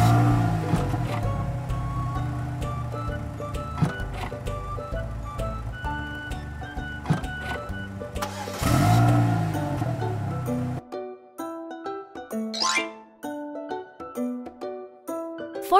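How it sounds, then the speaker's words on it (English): A pickup truck engine runs with a throbbing, harmonic drone that swells into a brief rev before stopping abruptly, followed by a light tinkling jingle. "Pickup truck."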